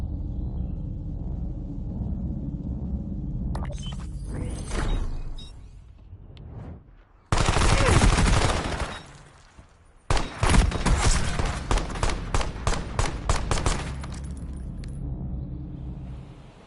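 Gunfire in a competitive Counter-Strike match, with loud rapid bursts of shots and a sustained rattling volley, mixed with in-game rumble and effects, loud and close throughout.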